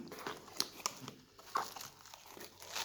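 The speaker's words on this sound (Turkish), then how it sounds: "Kutumuzu açalım." A box holding a Porland Flowers Garden breakfast set is opened, its packaging crinkling and rustling in soft irregular bursts with a few sharper crackles, quiet and close with no talking.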